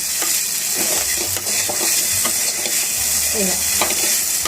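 A flour mixture stirred in a pan for undrallu, a constant hissing sizzle with repeated light scrapes and taps of a utensil, close and steady, with no voices.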